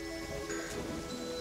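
Heavy rain in the Terraria video game, set in an expert hardcore world, hisses as a dense, continuous wash alongside faint tonal game music, with no talking.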